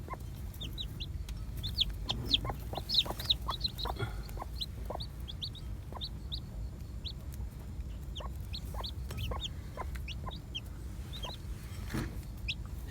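Hens clucking among small chicks, with repeated soft, short clucks and high peeping calls scattered throughout over a low, steady background hum.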